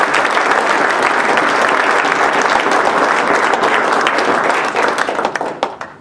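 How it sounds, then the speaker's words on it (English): A city council meeting audience gives a round of applause, a loud, dense, sustained roar of many hands clapping that holds steady and then thins out toward the end. "Let's give them another round of applause."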